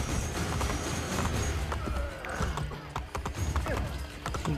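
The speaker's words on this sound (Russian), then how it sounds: "О, хоть на этот раз нормальная лошадь попалась." In the Assassin's Creed Brotherhood video game, horse hooves clip-clop in a brisk, uneven rhythm, close and prominent over faint in-game background noise.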